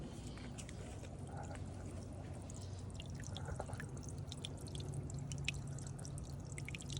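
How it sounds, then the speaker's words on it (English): Steady trickling and dripping water from a pond filter waterfall fed by a Hygger pump runs throughout, a gentle flow that grows slightly fuller partway through, with small splashes over a low background hum. "The waterfall should start flowing even a little bit faster now."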